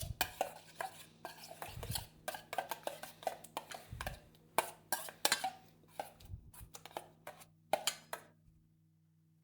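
A spoon scraping and clinking against a pan while tinned tomato sauce seasoned with pepper is stirred for homemade pizza, giving quiet, irregular close taps and scrapes with soft thuds.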